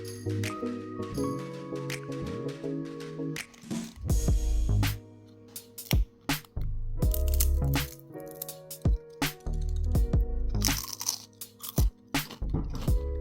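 Crisp homemade air-fried potato chips crunch loudly in a series of sharp, irregular bites over soft background music.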